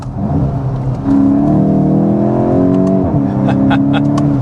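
A 2025 Volkswagen Golf GTI pulls hard in manual mode, its engine revving up steadily before a quick DSG upshift drops the pitch, then climbs again; loud, close and sustained.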